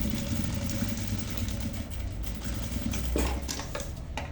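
Sewing machine stitching vinyl fabric for a boxy zipper pouch, a steady close mechanical whir and clatter running continuously with a slight surge near the end.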